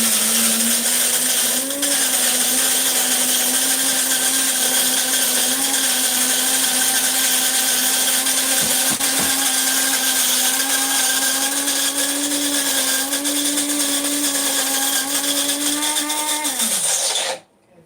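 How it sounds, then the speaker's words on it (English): A coffee grinder grinds coffee beans in a loud, steady whirring drone lasting about sixteen seconds, with a slight pitch rise near the start before it cuts off abruptly at the end. "Do you have a coffee grinder?"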